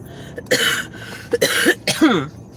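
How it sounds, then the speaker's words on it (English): Three harsh coughs in close succession, loud and close, with short pauses of quiet between them. "Still trying to get rid of this little stinking cough."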